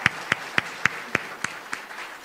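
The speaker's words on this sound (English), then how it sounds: "So let's give them all a round of applause." Slow, evenly spaced claps at the Spelling Bee of Canada Championships, about seven crisp claps in a steady rhythm, moderately close and fading slightly toward the end.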